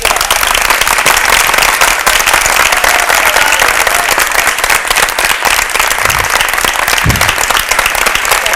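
An audience at a youth cultural program in Rajkot gives loud, sustained applause, with dense clapping filling the whole stretch and a couple of low thumps near the end.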